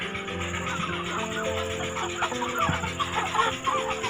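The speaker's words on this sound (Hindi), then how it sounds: "ये माशाल्लाह बहुत ही प्यारे और बहुत ही खूबसूरत मुर्गे हैं।" Golden Misri roosters cluck and call repeatedly at close range, with scattered, overlapping bird sounds over steady background noise.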